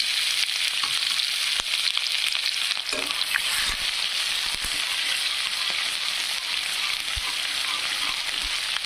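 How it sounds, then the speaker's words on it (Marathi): Onion sizzling steadily in hot oil right after mustard seeds went in, a dense, close crackle running throughout with a few scattered pops and light stirring clicks. "मोहरी टाकल्यानंतर टाकायचा आहे आपल्याला कांदा. भाजून मला तळून घ्यायचा आहे."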